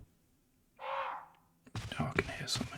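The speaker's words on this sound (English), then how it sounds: "Oh, it's a bird." A single harsh bird caw rings out in the Resident Evil video game, a short raspy call in a quiet scene, followed closely by a person talking over the game.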